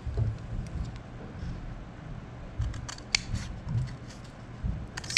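Scissors snip into a cardboard tube to cut a flange, several crisp cuts, the later ones sharper and brighter, heard close over faint low rumbling background noise.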